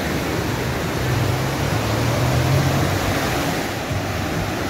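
Sea waves at Perequê Açu beach in Ubatuba, a shallow, calm stretch of shore: a steady, dense wash of surf noise fills the whole span, close and loud, with no voices.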